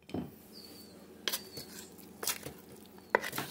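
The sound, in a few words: stirring seasoning into ribs in a crockpot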